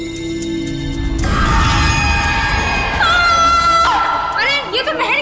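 A woman's loud, drawn-out scream rises and wavers over several seconds with other raised voices and a busy indoor scene around it, in a dramatic TV-show setting.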